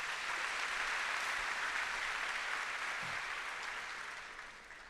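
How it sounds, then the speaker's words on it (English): Sustained applause from a large crowd at a school district opening day event, a thick continuous roar of clapping heard from a distance that fades gradually toward the end. "Nice round of applause again for Representative Pack"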